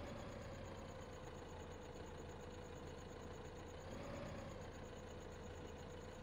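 Small tractor engine in Farming Simulator 15 on a hilly Great Smoky Mountains map, a steady low idling drone with faint mechanical knocking, rising slightly in pitch midway, heard alone without talk.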